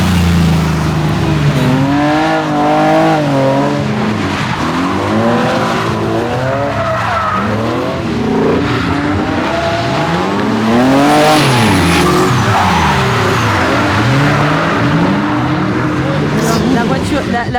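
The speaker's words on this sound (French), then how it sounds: "On va rouler la E30 à Dorian, à Jordan. E30 V8." A BMW E30 drift car fitted with a V8 skids and revs loudly, its engine note rising and falling in sweeping waves alongside tire noise, continuous and close throughout, with voices talking over it.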